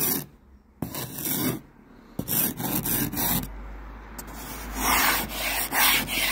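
Ice scraper dragging across a frozen surface in rough, gritty scraping strokes, close up and fairly loud, with short pauses between passes.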